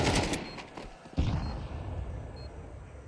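Gunfire in the video game Counter-Strike, sprayed through smoke on the Ancient map during an esports match: rapid bursts of shots at first, then a sharp loud report followed by a fading echoing tail, with no talk.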